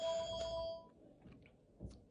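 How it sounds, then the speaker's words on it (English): A telephone bell rings in a long, steady electronic tone during the first three-quarters of a second, then cuts off, leaving a faint quiet background with a few soft knocks. "And there goes the phone. It's going to ring like 5 times because they don't pick it up."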